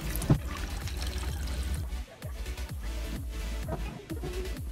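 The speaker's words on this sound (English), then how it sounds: "I'm actually going to siphon from one of the tanks" Water siphoned from a koi tank pours into a plastic bin, a steady close splashing stream with gurgling surges and a few bumps, continuous and unaccompanied by speech.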